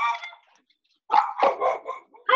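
A dog barks several times nearby in a home, starting with one bark, then after a short pause giving three or four loud, quick barks.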